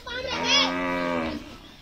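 Cows at the Gopal Gaushala cattle shelter moo in one long, loud, close call lasting over a second, heard alone with no talk.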